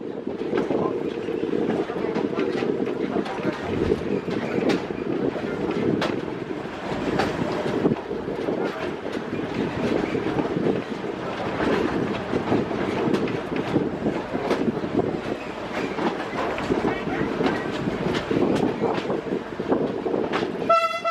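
A diesel locomotive pulls a historic tourist train along the Ambarawa line, a constant heavy rumble with rhythmic wheel clatter on the rails, heard from on board, ending with a brief horn toot.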